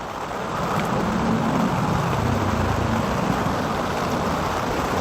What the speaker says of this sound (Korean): 아씨 비가 갑자기 너무 오네요